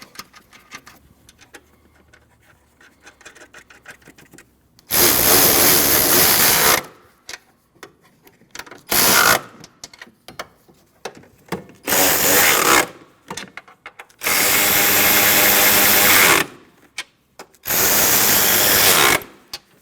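Strut mount nuts go on the top of a 2012-2016 Honda CR-V front strut with a power tool. Four or five loud, buzzing bursts of one to two seconds each are separated by quieter clicks and handling of parts.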